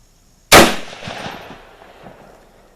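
A single suppressed Kar98k bolt-action rifle shot fired outdoors with a GSL Woodland suppressor: a loud, sharp report at close range, followed by a short fading echo with no voices.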